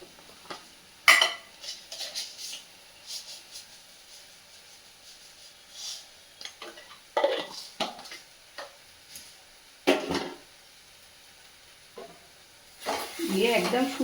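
Sugar is stirred in a pan with dry red chillies, giving sparse scraping and clinking strokes with a soft sizzle between them and a busier burst of stirring near the end.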